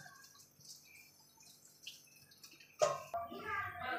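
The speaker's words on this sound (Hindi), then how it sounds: "तो सूजी में से मैं पानी रिमूव करूँगी इसे।" Water drained off soaked semolina for suji halwa in a home kitchen: after quiet clinks, a sudden splashing pour runs for over a second, with a voice speaking nearby.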